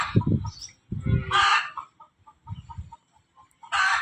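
Chickens in a cattle shed cluck and squawk near the recorder, a few short bursts of clucking mixed with brief higher calls, separated by quiet gaps.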